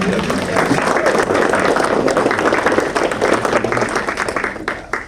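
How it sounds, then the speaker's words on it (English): Applause from an audience at a ribbon-cutting presentation for a wellness business, a dense, steady patter of clapping that carries loud and close throughout before thinning slightly at the end. "let's do a round of applause"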